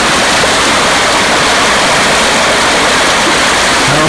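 Floodwater rushes down a creek after a July flood, a loud, steady, broadband roar of churning water that fills the whole stretch with no pauses and no voices.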